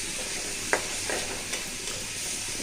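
Chopped shrimp sautéing in a hot pan, a steady broadband sizzle with a few soft stirring scrapes and clicks, close and alone with no voices.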